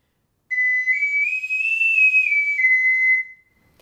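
A soprano ocarina sustains one high note with too little breath, sounding thin and airy with a slight waver and a small upward bend, alone and clear for about three seconds before cutting off.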